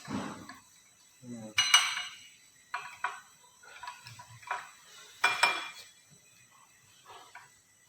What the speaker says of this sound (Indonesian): Oke, kita aduk ya guys.